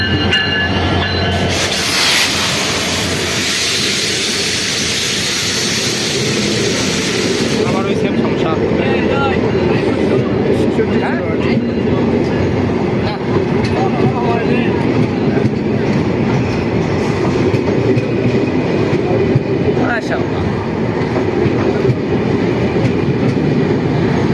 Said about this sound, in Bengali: ঢাকাগামী আন্তনগর ডাউন নীলসাগর এক্সপ্রেস ট্রেনটি বর্তমানে সৈয়দপুর ইন করলো